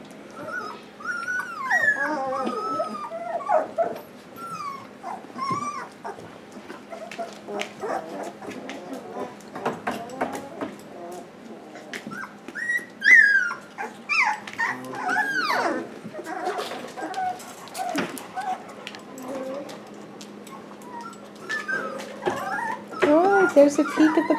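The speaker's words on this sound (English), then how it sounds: "There's a peek at the puppies, the F1 standard Irishdoodles." Three-week-old F1 standard Irishdoodle puppies whimper, squeak and yip in scattered bursts, close by, with soft shuffling and occasional louder cries throughout.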